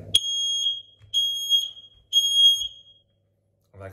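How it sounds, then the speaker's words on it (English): Three long, piercing electronic beeps from a household smoke alarm being tested with its button, each about a second, separated by short gaps, loud and close, with a brief rustle at the end. "you've got the smoke alarm, and on here, you have this button in the middle"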